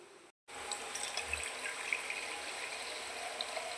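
Water runs steadily as wheat semolina is rinsed and then drained, a soft, even hiss of flowing liquid after a brief silent gap at the start.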